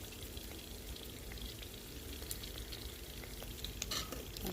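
Tomato and sausage chutney fries in a pan while a spoon stirs it, a steady low sizzle with soft scraping and a few small clinks, close and moderately quiet, without any voices.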